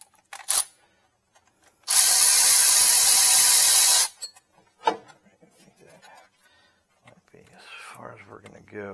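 A Milwaukee power tool spins out a bolt during a Jeep Liberty AC compressor swap, making one loud, close two-second whir, then clinks of handled parts and a voice speaking briefly.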